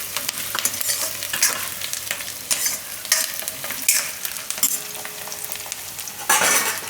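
Brinjal and vadi curry cooks in a pan while being stirred, with loud bursts of sizzling and scraping in an irregular rhythm over a constant frying hiss, heard close up with no talk.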